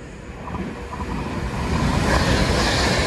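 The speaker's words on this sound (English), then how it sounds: "oh! Pandolina coming fast" A Pendolino passenger train rushes fast through Stafford station, a rising broadband rumble and whoosh growing louder over three seconds as it nears.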